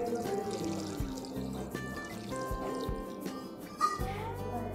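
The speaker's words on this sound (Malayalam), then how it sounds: "നമുക്ക് ഇതിലേക്ക് ഒരു രണ്ട് ഗ്ലാസ് വെള്ളം ഒഴിച്ചു കൊടുക്കാം." About two glasses of water poured into a Kerala-style vegetable stew in a pressure cooker, a steady pour running through the whole stretch under other kitchen sounds, with no one talking.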